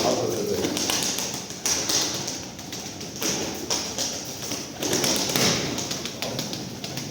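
Pigeons flutter and shuffle nearby, with wings flapping in bursts, tapping and thudding against surfaces, and faint cooing underneath.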